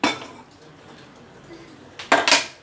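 A metal cooking pot set down on a lit stove, with a sharp clank at the start, a quiet stretch, then a cluster of loud metallic knocks and clinks near the end, close by with no talk.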